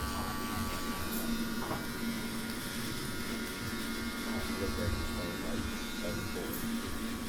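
Electric hair clippers buzz steadily at close range while a barber cuts a slicked-back army fade with a square beard in a barbershop, a constant hum running under the whole stretch with soft background bustle.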